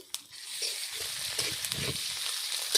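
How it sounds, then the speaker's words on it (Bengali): Onions frying with ginger paste in a pan make a steady, close sizzle with a few stirring clinks and scrapes, no voices. "পেঁয়াজ ভাজা হয়ে গেছে এবার আমি অর্ধেক চামচ আদা বাটা দিয়ে দিলাম"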